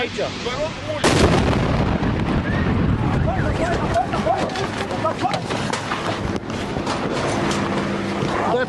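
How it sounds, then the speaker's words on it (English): Explosion at an LPG gas station: a sudden heavy blast about a second in, followed by a sustained roaring rumble with crackling bursts and shouting voices throughout. "The intensity of the second explosion, caught on camera, underscores the magnitude of the tragedy."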